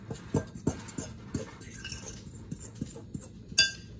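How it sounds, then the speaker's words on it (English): A fork scrapes and clinks against a bowl while stirring flour, salt and other dry biscuit ingredients together, giving a string of close, irregular taps and scrapes, with a voice heard faintly at times. "Just gonna use a fork here, sort of mix all that together"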